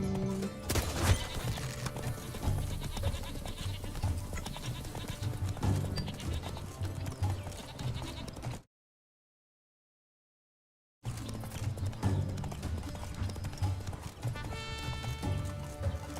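Continuous rhythmic clip-clop of a galloping horse's hooves in The Witcher 3, steady and fairly close, broken by a brief stretch of total silence before the gallop resumes.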